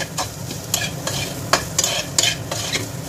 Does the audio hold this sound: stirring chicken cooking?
yes